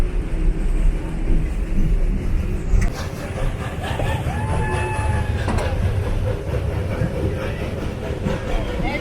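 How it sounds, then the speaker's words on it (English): The 1880 train, a historic train that has appeared in films, rolls past with a steady loud rumble and rhythmic wheel clatter, with faint squealing tones through the middle and some background voices. "The 1880 train is a movie star."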